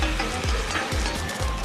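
Egg-filled buns pan-fry in a pan, giving a steady close sizzle and crackle with faint soft bumps, and no talking.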